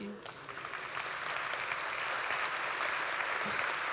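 Applause from a keynote audience at Rails World 2025 swells quickly and holds as a dense, even wash of many hands clapping.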